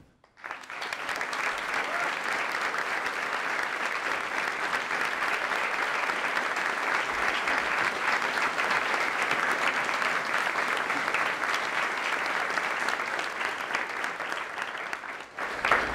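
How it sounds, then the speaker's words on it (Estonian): Sustained applause from an audience at a school graduation ceremony for basic-school leavers, steady and dense clapping lasting about fifteen seconds before stopping abruptly. "Palun teeme neile ka suur aplaus."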